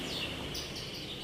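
Young canaries, about two to five months old, chirp in a cage as high, busy twittering that runs continuously at moderate, fairly faint level with no voices over it.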